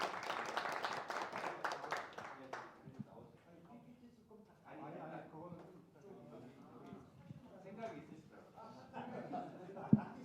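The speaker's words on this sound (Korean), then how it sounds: "힘찬 박수 부탁드립니다." An audience at a citizen research final report meeting bursts into applause for a couple of seconds, then the clapping fades as people start talking.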